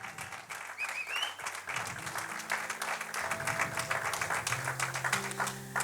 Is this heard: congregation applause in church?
yes